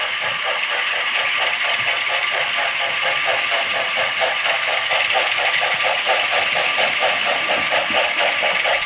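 Digital sound from a model 4-6-2 steam locomotive, a rapid, even chuffing beat that repeats steadily throughout over a constant mechanical hum, with no talk.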